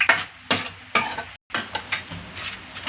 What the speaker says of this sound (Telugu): జీడిపప్పు పలుకులు వేస్తున్నానండి. ఇవి దోరగా వేయించుకోండి.